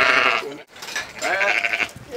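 Sheep on a farm in Inch, Ireland, bleating as they run toward the person who called them; close, loud overlapping calls with a brief pause midway, then more bleats.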